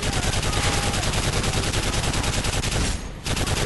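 Sustained rapid gunfire from Call of Duty Modern Warfare 3, a loud dense stream of shots that breaks off briefly near the end and then resumes.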